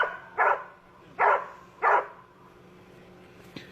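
Three loud, separate dog barks at a steady interval, close by, while a dog goes after a car; the barks are harsh and clipped, and no growl stands out.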